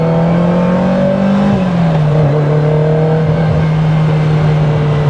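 Ferrari Dino 308 GT4 engine droning steadily from inside the car while driving, a loud constant hum with a slight pitch dip as revs change, no voices.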